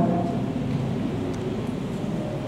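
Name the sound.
rain and thunder on an early morning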